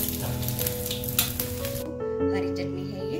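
Mutton cutlets frying in oil, a steady close hiss and sizzle that runs under a person talking and thins out partway through.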